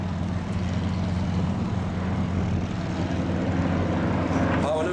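Yak aerobatic propeller planes flying a display at Warbirds over Wanaka 2016 give a steady, loud droning engine roar that holds throughout, with a commentator's voice faintly underneath.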